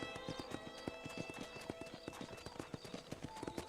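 Horse hooves clip-clopping in the Western video game Red Dead Redemption, a steady brisk rhythm of distinct hoofbeats over a background hum, with a voice talking faintly underneath.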